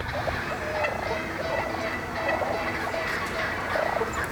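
Wild turkeys gobbling near a jake decoy during a fall turkey hunt: repeated loud, rattling gobbles from several birds close by, overlapping with steady outdoor background noise and no talk.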